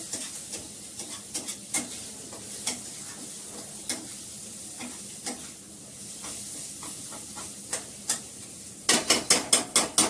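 Food stirred and fried in a pan with very little oil, a steady soft sizzle broken by scattered clicks and scrapes of the spoon, ending in a quick run of louder knocks against the pan.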